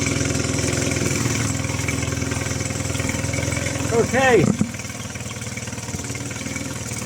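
A Mercury 9.9 outboard engine idles at a steady, even putter right through, while someone speaks briefly over it near the middle.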